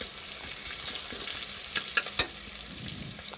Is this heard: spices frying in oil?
yes